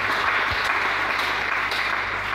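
A church congregation applauds and cheers together in a steady, dense wash of clapping that fills the whole stretch without pause, with no speech over it.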